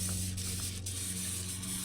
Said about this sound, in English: spray a little bit of my favorite substance on some of this exposed metal